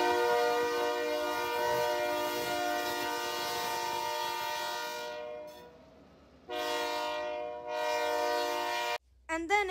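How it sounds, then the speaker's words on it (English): A train horn blasts long, loud chords, cutting off and sounding again as two CN SD40-2 diesel locomotives haul a long coal train past close by with a heavy rumble. "Here we see two leased CN SD40-2 leaving Fox River with a long coal train."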